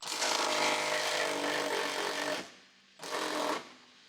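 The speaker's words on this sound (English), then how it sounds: "Use the 21mm deep socket with the electric impact wrench to loosen the bolt." An electric impact wrench with a 21mm deep socket loosens a bolt near the fuel tank of a 2011–2018 Jeep Wrangler JK, buzzing loudly for about two seconds, stopping briefly, then giving a shorter second burst.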